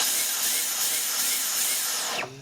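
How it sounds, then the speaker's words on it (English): A Dyson vacuum cleaner with a pulsing fault, its loud, dense whirring roar holding for about two seconds before the motor winds down with a falling whine, close and without voices. "But then one day it'll start to do this."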